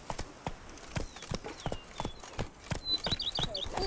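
Roach the horse's hooves in The Witcher 3, a steady clip-clop of galloping strides, close and clear, with faint bird calls and chirps overhead.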